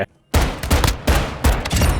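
Heavy gunfire from the video game Call of Duty: Modern Warfare II comes as loud, close bursts, roughly four powerful shots in quick succession after a brief silence.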